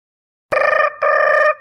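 A phone rings loudly at close range, two electronic trills separated by a brief pause.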